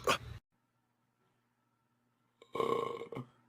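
Two burps from a man: a short one at the start, then a longer, louder belch after a quiet pause, both close and clear with no talking around them.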